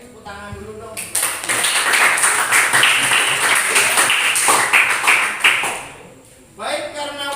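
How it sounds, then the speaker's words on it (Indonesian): A classroom of students applauds in a dense, lively burst of many hands clapping for several seconds and then dies away, with voices talking before and after. "tepuk tangan dulu dong"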